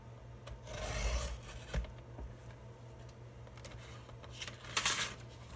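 Scissors cut out paper pieces up close, giving a few soft rasping slices with brief gaps between them and no talk.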